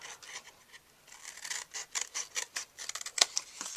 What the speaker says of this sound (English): We're going to cut away this one here.